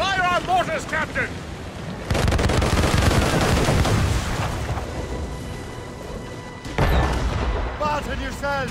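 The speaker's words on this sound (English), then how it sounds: "They're firing mortars!" Heavy cannon and mortar fire in a naval battle in Assassin's Creed Rogue, booming blasts and rapid volleys in loud bursts, with shouting voices in between.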